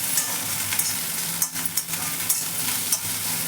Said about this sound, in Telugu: ఒక 2 నిమిషాల పాటు హైలో పెట్టుకుని బాగా ఫ్రై చేసుకోండి.